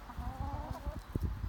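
Chickens in a henhouse give soft, low clucks and murmurs in a steady close-up chatter, with a few louder cluck bursts near the end.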